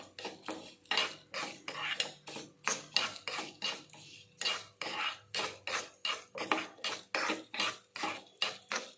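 Two dry red chillies roasted and stirred in a pan, a spoon scraping the pan in steady, rhythmic strokes roughly twice a second, close and fairly quiet, with no voices.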